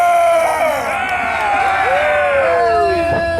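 Pro wrestling crowd cheering loudly and steadily, with whoops and shouts rising over a dense roar of voices, close and continuous throughout.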